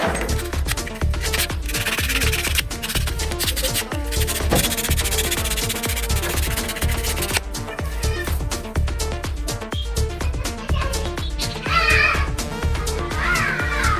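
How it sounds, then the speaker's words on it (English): Sandpaper is rubbed back and forth over the cut end of a plumbing pipe in quick, continuous, close strokes, forming a dense scratchy rasp that runs steadily throughout. "Then we rub it with sandpaper to smooth the pipe that has been cut."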